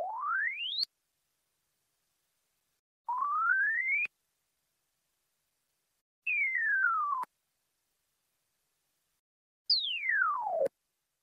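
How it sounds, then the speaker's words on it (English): Four clean synthetic sweeping tones, each converted from a visual line for an auditory task, play one at a time with silences between: two rising, two falling, each about a second long and moderately loud. "The sounds could be 4 different sounds that each corresponded to the conversion of a visual line."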